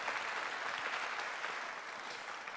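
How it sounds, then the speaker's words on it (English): An audience at a mayoral forum held in a church applauds in a steady, even wash of many hands clapping that fades slightly toward the end. "Please give this church and their staff for coming in on Saturday a round of applause."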